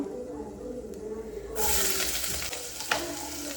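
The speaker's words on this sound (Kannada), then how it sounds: "ಇದು ಹಾಕಿ ಚೆನ್ನಾಗಿ ಫ್ರೈ ಮಾಡಬೇಕು." Onion frying in a pan for Afghani egg curry, quiet at first with a voice talking, then a loud sizzle bursts in halfway and continues with stirring scrapes.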